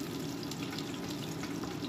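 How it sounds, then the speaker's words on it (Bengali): Nigella seeds and green chillies sizzle in hot oil, a dense, steady crackling hiss that carries on evenly throughout, close up with no voices. "একটু কালো জিরে কাঁচা লঙ্কা ফোড়ন দিয়ে দিলাম"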